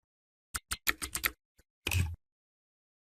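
A run of keystrokes on a computer keyboard while a verification code is entered on a PC: about seven quick, close, crisp taps, a lone click, then one longer clatter, with no talking.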